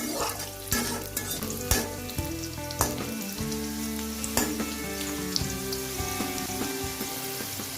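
Thekera tenga, a sour Assamese ingredient, is stirred into hot oil in a pan while frying lentil fritters for a curry, giving a steady sizzle broken by repeated stirring clacks, without talk.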